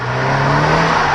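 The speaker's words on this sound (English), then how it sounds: "I'm just going to rev around the parking lot" A Scion FR-S engine revs in a parkade, a steady loud droning hum held for about a second with little change in pitch.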